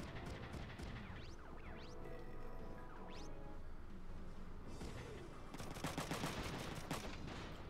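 Front Mission 3 video game gunfire in dense, overlapping bursts of rapid shots with crashes and sweeping synthetic tones, sustained and loud, ending in a quick run of sharp shots.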